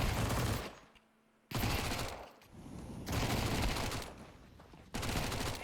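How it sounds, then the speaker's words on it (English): Rifle fire in a Counter-Strike match comes in loud, dense bursts of rapid shots, broken by short quiet gaps, with no voices over it. "The rifle of No Way cements the round."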